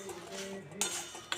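Puffed rice roasting in a pan, a brief soft rustle with light metallic scrapes and two sharper clinks of a spoon against the pan.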